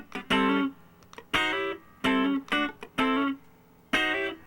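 Funk rhythm guitar plays a bar of sliding chord stabs, short punchy strums in a syncopated rhythm, each chord clipped off quickly, close and clean with no voice.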